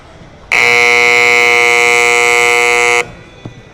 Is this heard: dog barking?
no